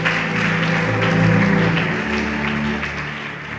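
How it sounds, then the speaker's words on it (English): Church congregation clapping hands together at a revival service, a dense, steady wash of applause filling the room with a faint voice underneath. "Ngicela sibashayele izandla"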